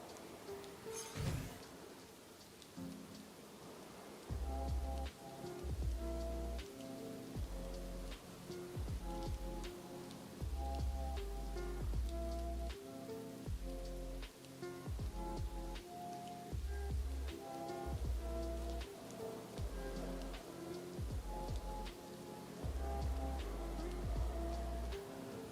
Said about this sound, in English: Rain. Looks like a mild drizzle.